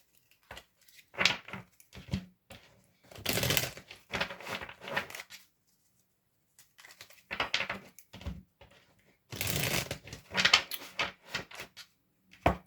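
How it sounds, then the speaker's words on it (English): A deck of tarot cards being shuffled by hand in a quiet room, with two bursts of riffling and crisp card snaps separated by softer handling noises and pauses, close and fairly faint. "Let's have a good old shuffle."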